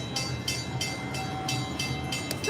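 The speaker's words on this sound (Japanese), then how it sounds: "電車来たからちょっとさっき乗った電車来たよ。" A train arrives at a station inside Disney's Animal Kingdom in Florida, giving a steady rumbling rail-car roll with rhythmic clacks repeating about every third of a second, close and continuous throughout.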